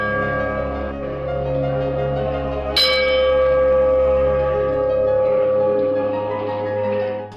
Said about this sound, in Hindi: मंत्रमुग्ध करती मंदिरों में बजती घंटियां